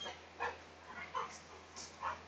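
A puppy indoors giving a few soft, high yips and whimpers spaced roughly half a second apart, faint and close against a steady low hum.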